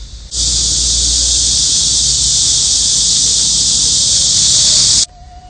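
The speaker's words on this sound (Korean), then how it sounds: "매미가 다 같이 합창을 하니까 이렇게 우렁차고 큰 소리가 나오는지 새삼 느끼게 되네요" A chorus of cicadas singing loudly on a hot summer day makes one continuous, steady, shrill buzzing drone that starts and stops abruptly, with no voices over it.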